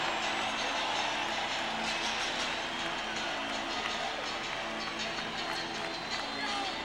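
A basketball arena crowd at a 1994 NBA playoff game, Seattle SuperSonics versus Denver Nuggets, lets out a loud, sustained roar that fills the whole stretch as a broad wash of voices.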